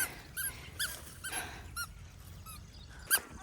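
A dog making short, faint whimpers and yips at a slow, uneven pace, heard at a distance over a low background hum.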